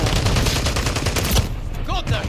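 Rapid automatic gunfire rattles in a Call of Duty match, a loud dense burst of shots for over a second before cutting off, followed by a short voice.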